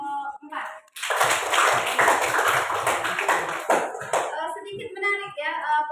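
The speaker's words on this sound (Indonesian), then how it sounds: "Oke, beri aplaus untuk kelompok 4" Classroom audience clapping for a student group, a burst of hand applause lasting several seconds that tapers off, with a teacher talking briefly before and after.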